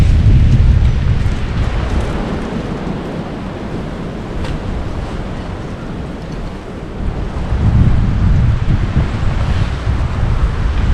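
Strong outdoor wind buffets the microphone in a continuous deep rumble that swells and eases in gusts, loud and close, with no voices.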